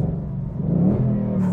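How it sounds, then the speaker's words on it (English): A 2021 Ford Mustang Mach 1 with a Coyote V8 and its exhaust set to track mode rumbles loudly up close, a deep steady burble that swells slightly midway with no talking over it. "If I go to, like, for example, the track mode, you can see the exhaust gets even louder"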